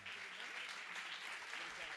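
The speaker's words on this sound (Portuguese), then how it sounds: "eu queria pedir palmas para Cidinha da Silva" Audience applause welcoming Brazilian writer Cidinha da Silva at a book fair talk, a steady dense wash of clapping throughout with no pauses.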